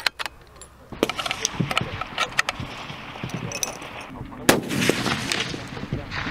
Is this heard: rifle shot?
yes